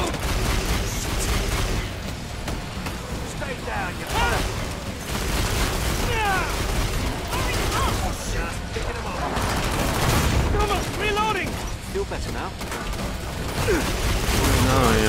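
Rapid, repeated gunfire rattles in dense bursts while shooting something, loud and continuous throughout, mixed with shouting voices and clanking mechanical noise.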